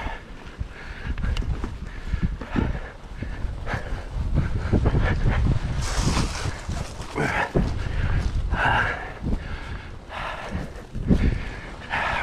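Blustery wind buffets on a cold, 32-degree ridge trail, loud rumbling gusts battering close by and rising and falling throughout, with occasional louder bursts.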